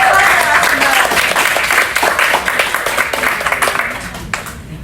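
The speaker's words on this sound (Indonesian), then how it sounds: "Mari berikan tepuk tangan sekali lagi untuk para narasumber." An audience at a public speaking and presentation event applauds the speakers, a dense burst of many hands clapping that stays loud, then thins and fades toward the end.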